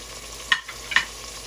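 Spice paste for rawon fries in cooking oil with bay leaves, lime leaves and lemongrass just added, a soft, close sizzle marked by two brief crackling bursts.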